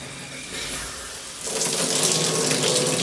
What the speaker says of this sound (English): Alright, so we're gonna check the pressure of the shower real quick.